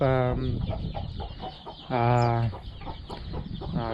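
Village chickens, a free-ranging breed kept in a highland village, cluck and squawk in repeated loud calls close by, with a person talking between them.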